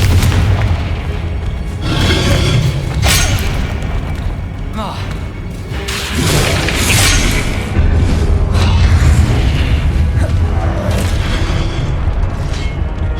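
Confringo blasting spells explode in the video game Hogwarts Legacy, with repeated loud booms and bursts over layered game action, and a voice calls out in the middle.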